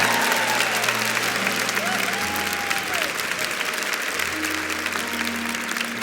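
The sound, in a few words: audience applause in church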